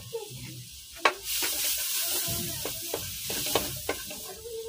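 Pasta is stirred in a pan over low heat, a scraping, swishing stir over a soft sizzle, with a few sharp knocks of the utensil against the pan.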